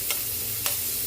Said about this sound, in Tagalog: Lagyan na rin natin yung ating garlic. Mix lang.